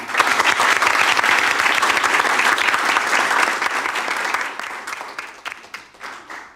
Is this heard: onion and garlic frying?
no